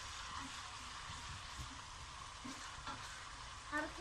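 A fish mixture for oven-baked bonito being stirred, with a quiet, even sizzle and faint soft scraping of the spoon close by, low in level and without talk.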